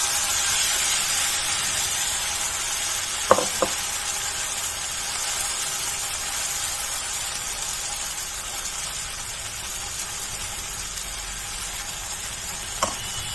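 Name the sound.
batter poured into oiled pan, sizzling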